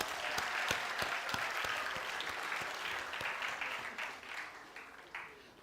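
Applause from a TEDx audience at Nile University of Nigeria for a speaker, dense clapping with distinct sharp claps up front, fairly quiet and distant, thinning out toward the end.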